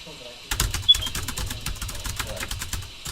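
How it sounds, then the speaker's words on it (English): Keys on a BrailleNote Apex braille notetaker clatter in a rapid, uneven run of sharp clicks, close and fairly loud, starting abruptly after a brief quiet moment. "Now listen to these keys."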